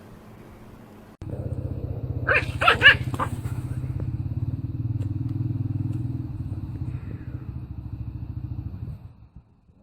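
A dog barks a few quick, sharp times early on, close by, over the steady low drone of a running motor engine that continues long after the barking stops.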